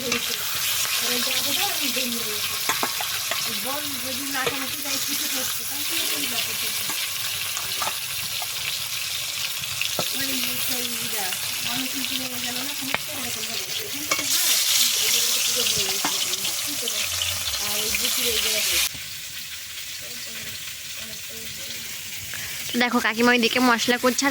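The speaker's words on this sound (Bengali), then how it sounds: "এখানে মানে ভেজে নিচ্ছি ফুলকপি আর আলু আর এইদিকে বেগুন ভাজা বসিয়েছি" Cauliflower, potato and eggplant fry in a pan for a picnic cooking session, a steady close sizzle running throughout with clattering stirring and a low background voice at times.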